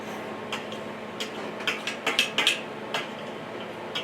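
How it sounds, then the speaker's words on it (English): A fork mixes ingredients in a bowl for a grilled chicken enchilada dish, giving a series of light, sharp metallic clicks and taps that cluster in the middle, close up over a faint background hiss. "I just take my fork and mix it up"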